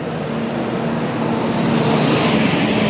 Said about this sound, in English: Apart from the traffic, of course.